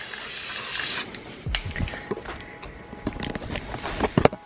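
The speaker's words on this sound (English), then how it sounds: "Put some spray paint in there." Spray paint hissing from an aerosol can onto a ceramic-coated Nardo Grey wrapped Shelby GT500 Mustang, a steady close hiss at first, then broken into short bursts with soft knocks and handling sounds.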